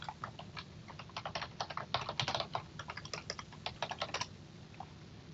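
Quick clattering keystrokes on a computer keyboard while a mission name is entered in a mission builder program, irregular bursts of clicks at close range, fairly quiet, with no talking.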